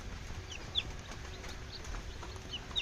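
Hens clucking in a poultry coop, with soft scattered clucks and a few sharper calls over a low, steady background hum; no voices.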